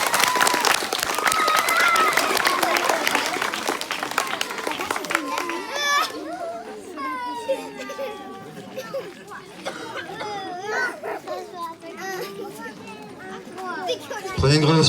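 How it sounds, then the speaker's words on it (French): Audience applause and cheering at a live stage hypnosis show, a dense burst of clapping that fades after a few seconds into crowd chatter, children's voices and a host talking. "Et on les applaudit encore bien fort."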